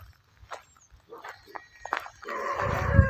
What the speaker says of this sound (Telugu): అయ్యో కుక్కలు